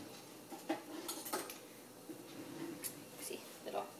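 Small metal tongs clink and scrape against a pan while warming tortillas for breakfast tacos, a few light, sparse taps and clatters in a quiet kitchen.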